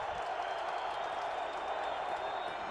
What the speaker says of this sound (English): So the crowd getting a little noisier on 1st and 10 for Cutler.